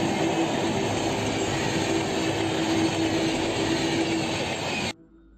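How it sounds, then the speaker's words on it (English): A train rolls past on railway tracks with a loud, sustained rumble and a steady wheel squeal, then cuts off abruptly near the end. "when the cow did not hear the train, it was thrown off the tracks by the train"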